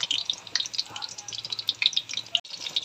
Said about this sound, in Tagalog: Prito muna tayong talong.